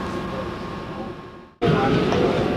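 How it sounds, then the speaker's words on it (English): A New York subway train made of R110 cars rumbles loudly from inside the car, with a dense roar that dips briefly and then surges back at full strength. "This is the Manhattan bound train."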